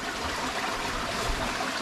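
Creek water rushes steadily through a flooded cave, a dense, continuous wash of flowing water that stays close and loud for the whole stretch, with no voices over it.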